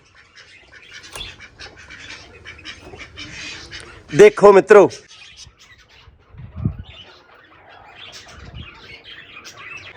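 Birds chirp in the background, then a loud, harsh squawking burst of parrots and sparrows rings out close by; someone speaks briefly around the calls.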